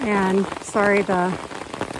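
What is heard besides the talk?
heavy rain pouring down on an umbrella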